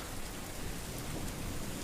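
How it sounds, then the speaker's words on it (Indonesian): Heavy rain pours down in a dense, steady roar with no break, loud and close throughout, a continuous wash of drops drumming on surfaces with no voices. "Hujan semakin menjadi-jadi."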